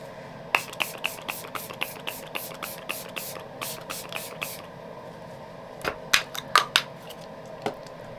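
A bottle of e.l.f. Power Grip Dewy Mist setting spray is pumped about a dozen times, short crisp spritzes in a quick even rhythm, then a pause and a few more scattered bursts, close and fairly quiet.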